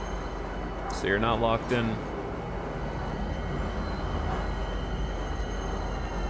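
A tram runs through Star Citizen, a steady low mechanical rumble beneath a voice that speaks briefly near the start, the rolling drone continuing evenly to the end.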